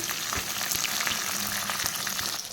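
Onions, eggplant and potato fry in a pan with a soft, steady sizzle and scattered crackles, fairly quiet and close, with no voices.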